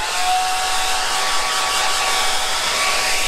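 A hair dryer runs continuously at close range, blowing to dry a watercolour painting; a loud, steady whooshing roar with a faint motor whine, no voices.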